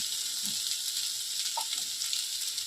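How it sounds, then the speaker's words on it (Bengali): Steady, close sizzling of potatoes and cauliflower frying in a pan, with a few faint scraping stirs over a constant hiss. "আলু কপি দুটোই সুন্দর ভাজা হয়ে গেছে"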